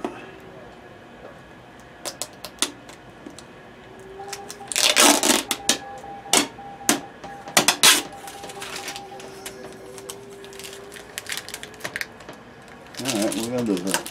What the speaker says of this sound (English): I'm trying to get some of this tape off